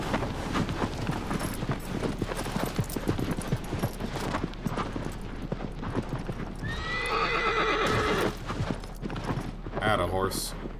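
Rhythmic hoofbeats of a galloping horse with a loud, shrill neigh near the end, alongside game music and a talking voice, from Shadow of the Colossus Remastered.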